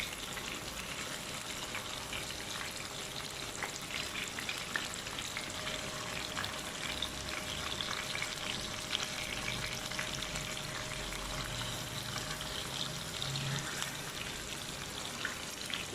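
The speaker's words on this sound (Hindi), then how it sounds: "हल्का सा फ्राई करेंगे।" Cooked chicken chargha lightly frying in a pan, a faint, even sizzle with soft crackles running steadily throughout and no voices.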